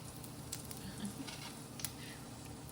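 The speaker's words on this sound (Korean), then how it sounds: "자, 지글지글 잘 되고 있어요." Faint, steady sizzle of food frying in a country bakery kitchen while chorizo baguette is prepared, with soft crackles and small pops scattered through a low, even hiss.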